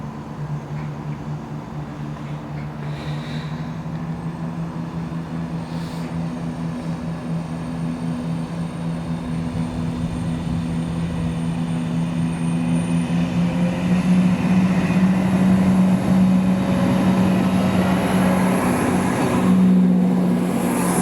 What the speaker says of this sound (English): there's the 1630 from Edinburgh to Cowdenbeath